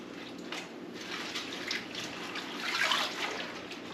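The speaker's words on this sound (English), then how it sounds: "just do a dunk in the water" Fresh-picked vegetables, including kale, are dunked in washing water, giving faint splashing and sloshing with a trickling, dripping texture nearby.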